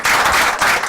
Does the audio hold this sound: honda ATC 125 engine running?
no